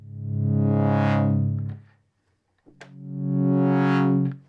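A synthesizer pad with a long attack on its filter envelope swells slowly from dull to bright and then fades. Two sustained notes play alone and loud, separated by a short pause.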